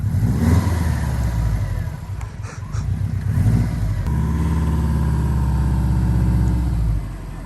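A 300 hp Subaru WRX accelerating from a standstill, its engine revving loud and close with a rising, throaty drone, a brief dip and a gear change before the revs climb again, no voices over it.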